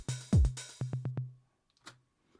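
Programmed drum pattern built in Ableton Live 12, where a punchy low hit is followed by a quick run of four tom strikes, then a faint trailing hit, short and isolated.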